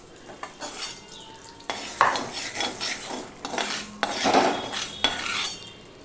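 Half-boiled taro root pieces being scooped from a pan into a pot for a Bengali vegetarian dish, with clinks of a metal utensil against cookware and soft scraping, close and moderately loud, no talk.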